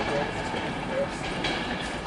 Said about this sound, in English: approaching into Newcastle now is a Scotrail service from Glasgow Central. It's formed over 156.